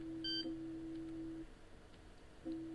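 Electronic beeps from the Space Quest 3 computer game: a steady tone sounds for about a second and a half, pauses for a moment, then starts again. It is clear and alone, with no voices.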